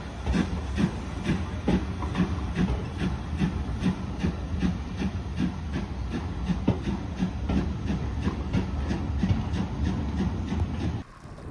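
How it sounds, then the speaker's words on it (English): A steam train passes on a railway at steady close range, its wheels clicking rhythmically over a constant rumble and hiss that runs through the whole stretch without talk. "We were lucky enough to see a passing steam train"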